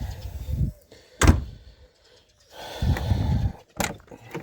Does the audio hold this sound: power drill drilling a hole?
no